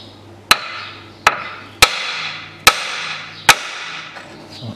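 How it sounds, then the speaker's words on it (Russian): Five sharp hammer blows struck a steering knuckle on a 2009 Chevrolet Aveo, evenly spaced about a second apart, loud and close with short metallic ringing after each hit, no talking. "поэтому возьму 2-3 хлестких удара молотком"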